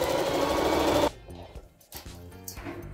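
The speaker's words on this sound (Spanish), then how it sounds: "Es a la orilla de la costura y regreso un poco y le coso en la orilla." A sewing machine stitches lace onto the pocket of a kitchen apron, whirring in a fast, steady run for about a second before stopping, followed by quieter clicks and handling sounds.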